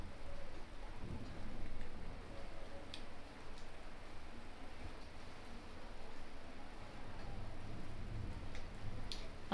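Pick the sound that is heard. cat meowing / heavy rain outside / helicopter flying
heavy rain outside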